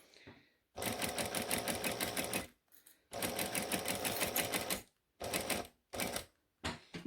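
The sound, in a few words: sewing machine making a stitch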